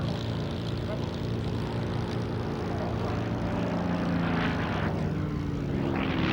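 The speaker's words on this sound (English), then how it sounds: "The Spitfires and Hurricanes are coming to the end of their salute pageant." Spitfire and Hurricane propeller aircraft at a 1990 Battle of Britain 50th anniversary air show, a steady loud engine drone that swells slightly near the end, with no voices.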